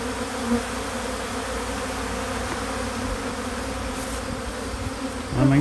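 Honeybees swarm around a syrup feeder during hive feeding, a steady dense buzz that holds close and constant throughout, with a brief louder hum rising near the end.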